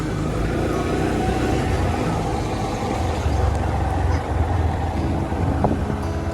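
A motorbike ridden on a road with a second rider aboard, its engine drone steady and loud throughout, heavily mixed with wind rush against the microphone.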